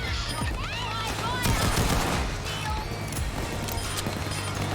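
Gunfire during a Payday 2 heist, rapid bursts of shots rattling through the scene alongside shouted voices and game noise, loud and dense throughout.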